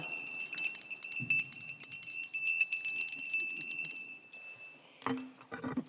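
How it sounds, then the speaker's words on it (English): Small hand bells ring out at a town council meeting, a bright run of clinking, shimmering tones for about four seconds, then a pause and a couple of short clanging strikes. "I'll ring the bells provided to me by the DAR."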